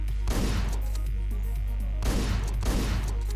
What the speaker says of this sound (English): I just want to get Fatty with that last shot